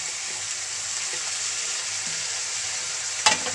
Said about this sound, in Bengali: আমি এখন এর ভিতরে আমার কুচি করে রাখা বাঁধাকপিগুলো দিয়ে দিব